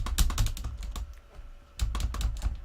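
Loud mechanical keyboard space bar pressed repeatedly, clustered thocks in two bursts with a brief pause between, close and clear, no talking.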